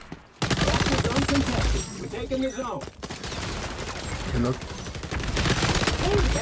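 Vector submachine gun in the XDefiant shooter game, fired in rapid bursts of sharp cracks with short pauses between strings, loud and close, with other game sounds mixed in.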